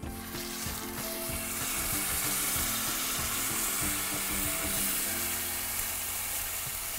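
Stock ladled into a pan of risotto sizzles and bubbles steadily up close, a continuous hiss of frying with faint stirring and no talk.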